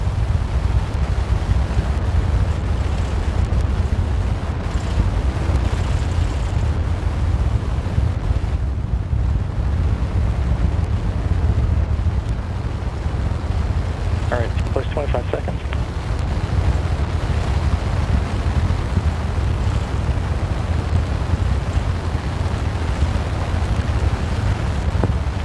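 SLS rocket core stage engines roaring at start during a hot fire test, a steady, heavy low rumble like buffeting wind that holds constant for the whole stretch with no clear pauses.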